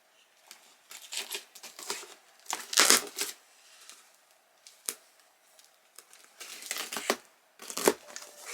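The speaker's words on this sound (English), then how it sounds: "Lots and lots and lots of air bubble packaging." Air bubble packaging being pulled out of a parcel during unboxing, with irregular close rustling and crinkling bursts separated by short pauses.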